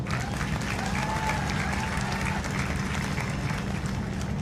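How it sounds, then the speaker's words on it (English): Large crowd applauding at a university convocation, a steady roar of clapping with faint voices mixed in and a low rumble from the hall. "all of you deserve another round of applause for who you are"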